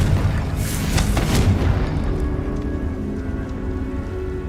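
Confringo, the blasting spell from Hogwarts Legacy, lands as a few sharp crackling bursts followed by a loud, rolling rumble that hisses on like heavy rain.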